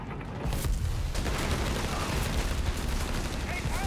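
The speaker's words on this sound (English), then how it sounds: "Captain's artillery dropping down behind the smoke." Artillery barrage in Company of Heroes 3, a dense, continuous rumble of explosions and gunfire close by, with distant shots layered underneath.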